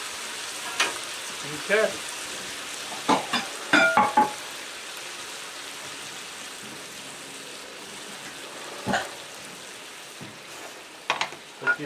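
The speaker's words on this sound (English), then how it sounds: "Let that sugar caramelize a little bit." Sugar caramelizing in a hot pan for General Tso's chicken, with steady frying sizzle and intermittent clicks and scrapes of stirring; a voice speaks briefly.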